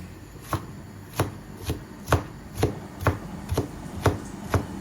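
Garlic and onion being chopped with a knife on a board for pork binagoongan, about ten evenly spaced, crisp close chops over a quiet background.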